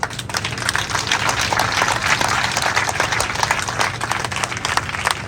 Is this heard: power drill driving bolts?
no